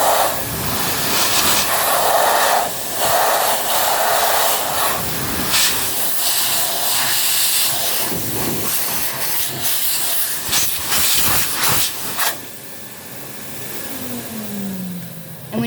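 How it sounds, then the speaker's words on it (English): A vacuum run in reverse blows a strong, steady rush of air to clear dust out of a PlayStation, a loud hissing roar with shifting gusts and brief bumps, fading to a lighter hiss near the end. "a vacuum like mine. It can blow air, like a lot of air."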